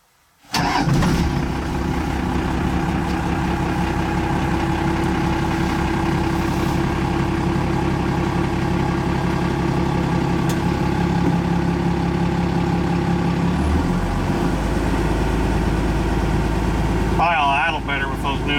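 A first-generation Dodge truck engine cranks, fires and settles into a steady rumbling idle while warming up, loud and close for most of the time, with a voice speaking near the end.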